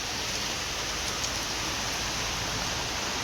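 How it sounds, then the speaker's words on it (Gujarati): A steady, dense hiss of rain falls evenly without pause, close and constant. "બહાર જોવા બરાબર રાતનો વરસાદ ચાલુ છે"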